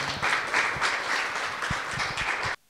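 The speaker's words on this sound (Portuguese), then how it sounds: "Uma salva de palmas para Ricardo Anselmo" Audience applause for a guest on a talk show, steady dense clapping at moderate volume that runs continuously for a few seconds and then cuts off abruptly.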